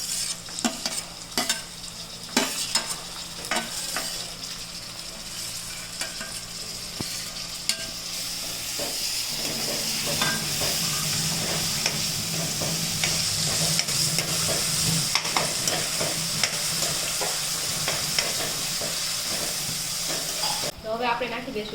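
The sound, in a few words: onions and tomatoes frying in pan for bateka pauva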